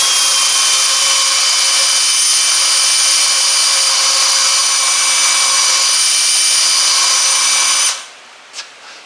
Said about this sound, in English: let's go try my drill here. Get all this cleaned up really well.